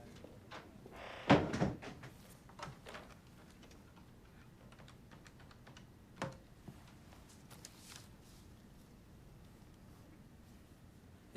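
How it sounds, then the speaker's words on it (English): Door shut with a single solid thud near the start, followed by faint clicks and small knocks in a quiet room. "And shut the door."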